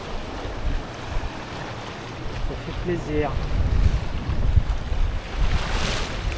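Waves and wind around a boat sailing between Greek islands, a steady wash of broadband noise with gusty low rumble and microphone buffeting, rising slightly toward the end; a voice speaks briefly.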